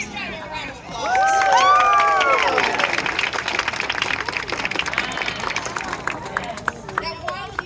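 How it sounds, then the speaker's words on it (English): Outdoor crowd at a Renaissance faire bird of prey show clapping and cheering for a flying bird, applause swelling suddenly after a few excited shouts and continuing steadily to the end with scattered individual claps. "Give Skylar a round of applause."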